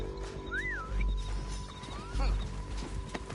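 A horse in the Red Dead Redemption 2 game gives a loud rising-and-falling whinny, then a second fainter neigh, over steady hooves, rustling ambience and a low hum.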